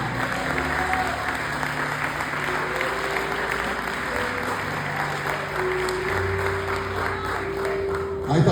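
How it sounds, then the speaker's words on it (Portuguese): Church congregation applauding during a sermon, a sustained dense wash of clapping from a large crowd, steady and loud throughout with a low hum beneath. "Pode aplaudir assim."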